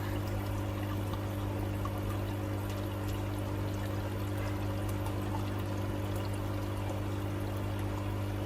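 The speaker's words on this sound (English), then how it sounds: "you can watch that plummet as the icy waters are going into the tank" Rainwater pours steadily into an aquarium tank during a water change, a continuous splashing, rushing flow that stays even and close throughout, with a low steady hum running underneath and no voices.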